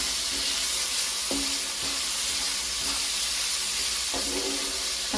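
Chopped tomatoes sizzle in a pan with green chillies while a Malayalam-style pichinga (ridge gourd) curry is cooked, a loud steady frying hiss broken by a few soft stirring scrapes, with no voices.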